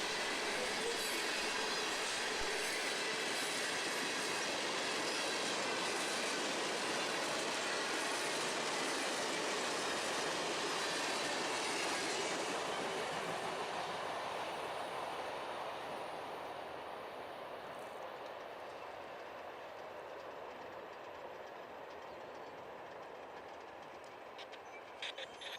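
Freight train 514 rolls by on the Fitzgerald sub, a continuous rumble of railcars with wheel squeal and rhythmic clickety-clack, loud at first and slowly fading as it moves away.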